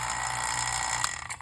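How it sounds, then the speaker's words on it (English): A vacuum pump runs steadily on a Gree multi-zone mini split refrigerant system, a continuous broadband mechanical drone with a low hum, close and loud, with a small knock near the end. "you turn the vacuum pump on first"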